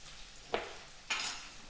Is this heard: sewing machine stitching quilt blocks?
no